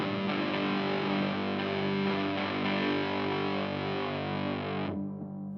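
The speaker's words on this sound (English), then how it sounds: "Dial in some reverb." Heavily distorted guitar through a Silvertone Paul Stanley Sovereign Pro amp with reverb dialed in, sustained loud chords washing together before cutting off abruptly near the end, with no voices.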